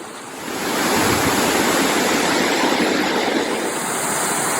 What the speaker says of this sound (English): This is Beaver Brook Waterfall in New Hampshire.